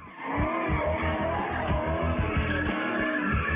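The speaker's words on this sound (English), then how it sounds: "They're going to do a couple of donuts and a few burnouts for us." HSV VE car revving hard while doing donuts and burnouts, a dense continuous engine roar with tyre noise, loud and close throughout.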